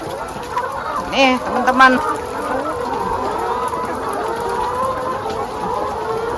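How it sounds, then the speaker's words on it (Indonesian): Red laying hens at an egg farm cluck in short bursts and a few brief squawks over a steady barn hum, with a voice speaking briefly near the start. "Jadi ini tuh dia jenisnya ayam merah, teman-teman. Yang dipakai buat diambil produksi telurnya ya."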